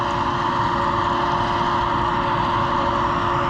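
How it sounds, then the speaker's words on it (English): A grain bin dryer gives a loud, steady mechanical roar with a constant fan-like drone and low rumble, unbroken from start to finish with no voices. "That very loud noise you hear is the dryer on the grain bin."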